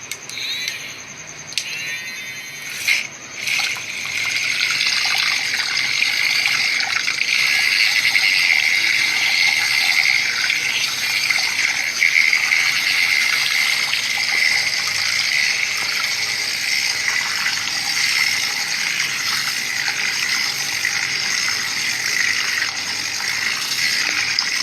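Yogurt is beaten in a bowl with a continuous loud whirring, steady and close, after a few brief knocks at the start.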